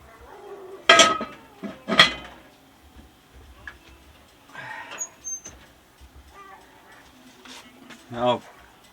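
A cast iron pot holding a pot roast is slid into a small oven on a sailboat, giving a few sharp metallic clanks and knocks followed by lighter rattles and scrapes, with a person speaking between them.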